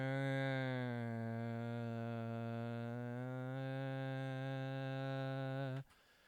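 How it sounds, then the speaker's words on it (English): MIDI Celestial Voices preset holding one steady, choir-like sustained chord for several seconds before cutting off abruptly, fairly quiet with no talking. "So I chose the MIDI Celestial Voices for the back"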